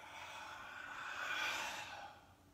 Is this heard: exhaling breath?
yes